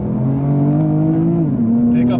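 A 2019 BMW M2 with a dual-clutch transmission and 405 horsepower pulls away from a dead stop, its engine note climbing in pitch and then dropping at a gear change before rising again, loud and close beneath a talking voice.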